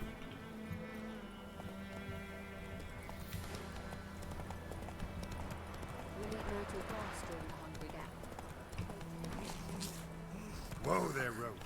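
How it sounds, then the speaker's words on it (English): Hooves of a horse galloping in The Witcher video game clop in a quick, steady rhythm beneath a voice and game music, slowing near the end with a brief louder burst. "Whoa there, Roach."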